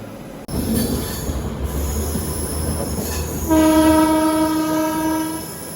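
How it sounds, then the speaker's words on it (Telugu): A Janshatabdi Express on the Chennai–Vijayawada line brakes to a halt near Gudur junction: a loud, close rumble of rolling wagons builds into a sustained, piercing metallic wheel squeal that rings steadily until the end. "గూడూరు ముందైతే ట్రైన్ ఆగిపోయింది"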